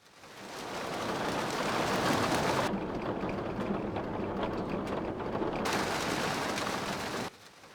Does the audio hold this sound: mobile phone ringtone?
no